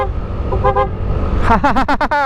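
A motorcycle horn beeps several quick times in a row, loud and close, over engine and road noise.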